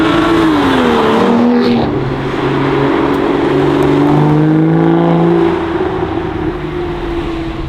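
An Aston Martin DB9 (2013 model year) V12 engine revs and roars loudly, pitch rising and falling as it accelerates hard, close by and continuous.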